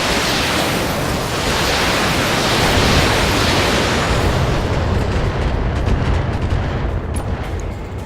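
Battlemech weapons in Battletech fire in a dense, roaring barrage of blasts that swells into a loud sustained rumble, then thins toward the end with scattered crackling impacts, heard alone without talk.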